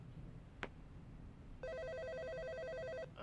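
A telephone rings in the video game HOME, an electronic trilling ring of rapid repeated pulses lasting about a second and a half, preceded by a single sharp click in a quiet room.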